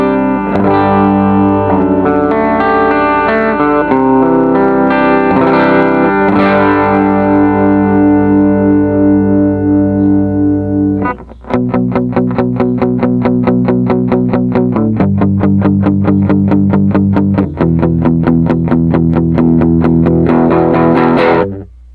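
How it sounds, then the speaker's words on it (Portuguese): Electric guitar played through a Line 6 Helix pedalboard with a compressor engaged, loud and sustained chords and picked notes ringing out, then a run of quick, evenly repeated plucked notes. "Então, já com o compressor aqui, ele já vai me dar esse som aqui"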